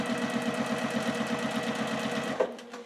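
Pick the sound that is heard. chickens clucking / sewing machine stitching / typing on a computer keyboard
sewing machine stitching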